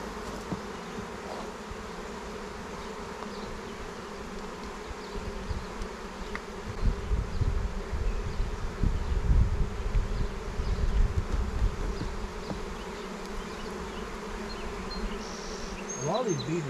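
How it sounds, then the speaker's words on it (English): Honeybees drone steadily inside a nuc hive being smoked during a one-month inspection, a close, continuous buzz that swells slightly midway without talk. "It's heavily smoking these bees so they get out of here."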